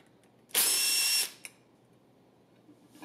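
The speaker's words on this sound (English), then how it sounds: "Use a 5mm hex to remove the cover bolts." Power hex driver with a 5mm bit running on a pump cover bolt, one close high-pitched whir of under a second, then a brief click and quiet.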